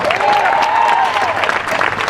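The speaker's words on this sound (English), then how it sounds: "Now put your hands together and clap." A crowd at Rev. Barber's 2013 outdoor rally in Lincolnton, North Carolina claps together in a steady, dense wash that holds loud and even for about two seconds, with a faint voice or tone drifting over it.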